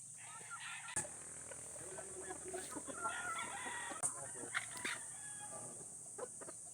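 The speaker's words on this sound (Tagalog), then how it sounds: "Ako na lang ang nagpatuka sa mga broodcock." Gamefowl hens and broodcocks clucking and crowing at feeding time, a busy layered chorus of poultry calls with sharp nearby peaks over steady background din, no talking.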